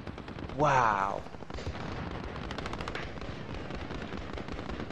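Rapid machine-gun fire in Call of Duty Warzone, a steady close burst of shots rattling on throughout while a voice briefly exclaims over it.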